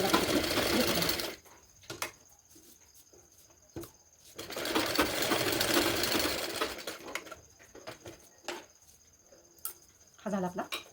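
A sewing machine stitches a half-inch tuck on a blouse, running in rapid mechanical bursts separated by pauses, with someone talking in between the runs.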